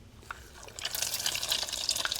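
Egg-washed pike hits hot oil and begins frying, a quiet start giving way to a loud, dense crackling sizzle that carries on steadily.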